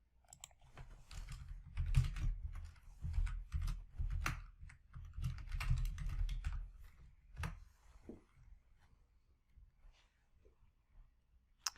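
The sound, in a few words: typing on a computer keyboard to change a variable name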